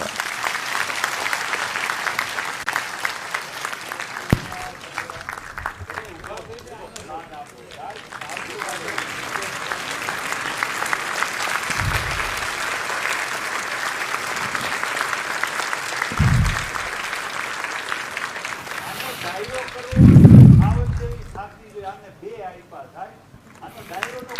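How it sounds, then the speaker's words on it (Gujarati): Sustained applause from a large crowd at a performance in Rajkot fills the space, steady and continuous, with a few louder thumps and voices near the end. "ઊંચા હાથ કરીને આપણે તાળીઓ પટાડીએ"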